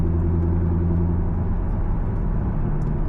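A C5 Corvette engine on a night drive, heard from inside the car as a steady, loud low rumble with a faint hum on top and no talking.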